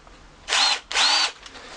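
A power drill fitted with a 20mm flat bit bores a hole in two loud, sustained bursts of whining high-pitched cutting, with a short pause between them.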